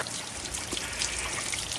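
A small waterfall trickles steadily, a soft continuous splashing and dribbling of water that stays close and fairly even throughout, with no voices over it.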